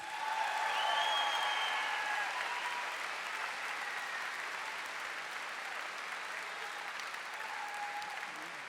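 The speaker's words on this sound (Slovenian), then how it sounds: "lepo prosim močan aplavz" Sustained applause from a large audience at a music evening in 2011, even and continuous throughout, with faint whistles or tones riding above it.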